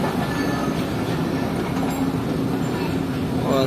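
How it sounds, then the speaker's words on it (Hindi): A Shaheen Passenger railcar gathers speed, its steady rolling rumble and faint wheel squeal running loud and continuous from a close interior position. "रेल कार ने स्पीड पकड़ना शुरू कर दी है"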